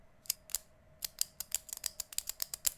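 A Frixion pen clicks repeatedly nearby, with about a dozen sharp, light clicks in an irregular rhythm over a quiet background hum.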